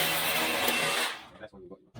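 Power drill boring into a hollow brick wall during a Baxi combi boiler installation, a loud continuous grinding whir for about a second before cutting out, followed by quieter handling knocks.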